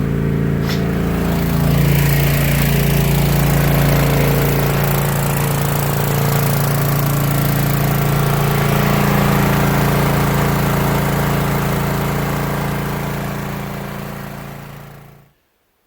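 A generator engine converted to run on natural gas drones loudly and steadily under load, its laboring hum holding for about fifteen seconds before it fades and cuts off.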